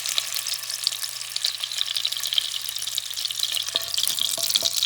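Hot sausage grease in a pot fries with a steady, bright crackling sizzle, close and continuous, with a few soft clinks and stirring touches toward the end.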